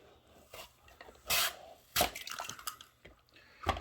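A whole potato pressed through the blades of a French fry cutter, heard as several separate close crunching, squishing pushes and scrapes with quiet gaps between them, alone without speech.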